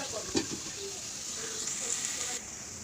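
Steady oily sizzle of fritters frying, with a brief clatter near the start and faint voices underneath.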